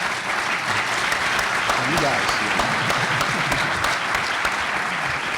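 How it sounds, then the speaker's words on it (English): Audience at a flooding and storm surge symposium applauds the speakers, with continuous, full-room clapping running throughout and a brief spoken remark heard over it. "Give them a big round of applause"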